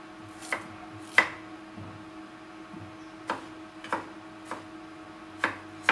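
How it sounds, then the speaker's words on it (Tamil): A knife chops banana flower on a board in sharp, separate strikes spaced irregularly about a second apart, close and fairly quiet with no talking. "இது எல்லாத்தையும் இப்போ நறுக்கிக்கலாம்."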